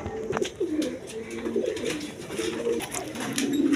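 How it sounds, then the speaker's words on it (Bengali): A pair of high-flying Giribaz pigeons coos continuously, with close, overlapping throaty rolls filling the whole stretch. "দর্শকবৃন্দ এখানে এক পেয়ার হাই ফেলিং গিরিবাজ কবুতর"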